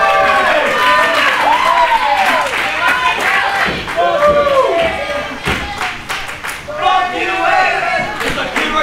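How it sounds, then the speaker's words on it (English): Loud crowd at a pro wrestling show cheering and chanting with rising and falling voices, clapping mixed in and bursts of yelling, with a commentator talking over the noise. "Just hear the crowd"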